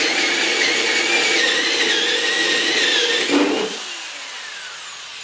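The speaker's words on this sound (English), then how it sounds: "put it back on the bit, and we could keep drilling" A Black & Decker DR260B 3/8-inch drill/driver drills steadily, its motor whine loud and continuous, then drops to a lower, quieter hum near the end as the bit breaks through or the load eases.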